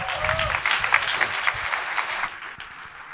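At a youth hackathon in Berlin, an audience applauds a team taking the stage. The busy clapping is loud at first and thins out after about two seconds.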